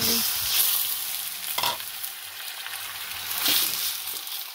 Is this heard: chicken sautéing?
yes